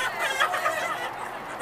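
A rooster clucks at a live animal market, a short raspy run of clucking calls lasting about a second and a half, close and moderately loud.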